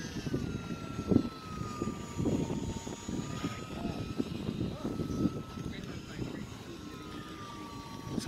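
An E-flite Timber UMX ultra micro RC plane buzzes with a thin, high electric motor whine that rises and dips as it takes off. Gusty wind rumbles against the microphone underneath.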